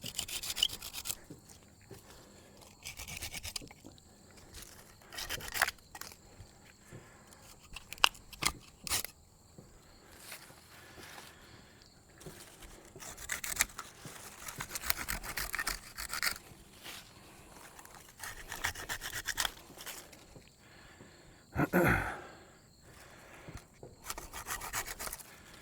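Sticks being trimmed down by hand, giving repeated rubbing, rasping strokes in uneven bursts with pauses between, close and moderately loud with no talking.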